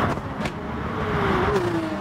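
A McLaren race car engine in Gran Turismo Sport, droning steadily at close range with a whining tone that slides downward near the end, plus a couple of brief bumps.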